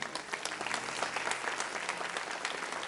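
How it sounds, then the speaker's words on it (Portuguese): Loud, sustained applause from a church congregation, with many hands clapping in a dense, continuous roar and individual sharp claps standing out near the front throughout. "Se você quer, aplauda bem forte o Senhor por isso."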